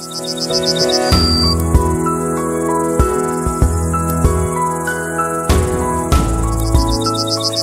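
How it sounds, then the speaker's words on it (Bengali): Rapid high-pitched cricket chirps pulse in short bursts at the start and end, over a steady bed of sustained musical tones, on a silent night. "নিঃশব্দ রাতে ঝিঝি পোকার ডাক বহু দূর থেকেও শোনা যায়।"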